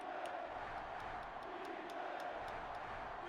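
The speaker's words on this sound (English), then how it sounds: "this crowd is going absolutely insane" A stadium crowd in the NCAA Football 06 video game roars in a steady, dense wall of noise, with faint rhythmic clicks running through it.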